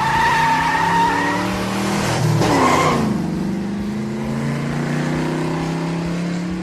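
Car speeding off with tires skidding, a loud tire squeal and engine revving rising then settling into a steady engine drone as it pulls away, no talk.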